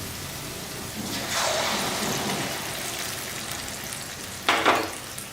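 Boiled water hits a hot pan of seasoning for upma, erupting into two loud bursts of hissing sizzle over a steady background crackle.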